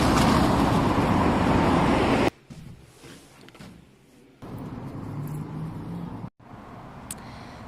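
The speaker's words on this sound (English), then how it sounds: "I think I need to wait for some traffic to clear" Road traffic passing by: a loud rushing swell of a vehicle going past, an abrupt cut to quieter ambient road noise, then more steady moderate traffic hiss with brief pauses, with no one speaking.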